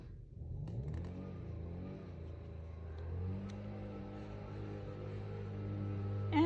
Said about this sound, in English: my husband just turned on the blower